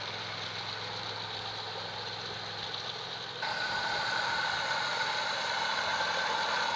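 A model diesel locomotive runs on an outdoor garden railway near stonework, giving a steady idling engine hum that turns louder and brighter partway through, with no talking.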